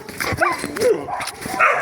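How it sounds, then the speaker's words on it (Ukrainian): A dog barks from inside a hole it has gnawed for itself, with short yips and whimpers coming close and moderately loud in a quick irregular run over outdoor background noise. "Вона вигризла вже дірку собі, вона гавкає звідти."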